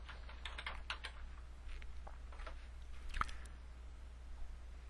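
Soft, rapid keystrokes on a computer keyboard patter in quick irregular bursts against a steady low hum, with one sharper click near the end.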